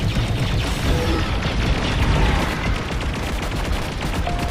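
Starfighter laser cannons fire in the Star Wars Squadrons space combat game, a dense, loud, continuous barrage of rapid shots layered over rumbling engine and explosion noise.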